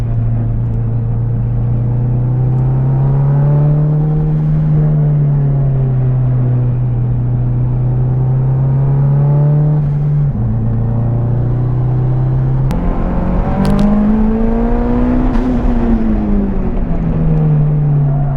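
A Toyota Supra or Mitsubishi Evo 5 at speed on a race track, its engine droning loud and steady with pitch rising and falling through gear changes, close and continuous with no talk.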